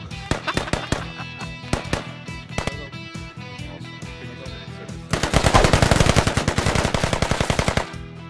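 Sustained automatic gunfire in the military shooter game Squad, first scattered loud shots, then a dense rapid burst of machine-gun fire dominating the last few seconds, close and loud.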